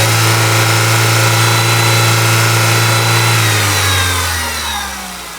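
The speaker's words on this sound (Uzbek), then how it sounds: "Motorda ovozi bu zavodskoy stok holatdagi shovqini" A stock, factory-standard car engine picked up with the microphone right beside the motor, running loud and steady with a strong low hum that drops in pitch and fades slightly near the end, no voices.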